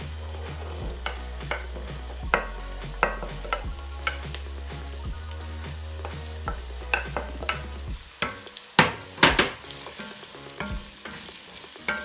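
Carrots and onions sizzle in a frying pan while shepherd's pie is being made. A steady close hiss runs under a low background hum, broken by clattering stirs and sharper pan knocks near the end. No one speaks.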